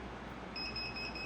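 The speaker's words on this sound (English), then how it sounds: "Timer's gonna go off." An automatic timer alarm on a heat press sounds a steady high-pitched electronic beeping tone partway through, clear against a constant low room hum with no talk.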